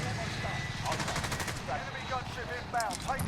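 Rapid gunship gunfire in Call of Duty Modern Warfare Warzone, quick bursts of automatic fire over game noise, with players talking excitedly over it.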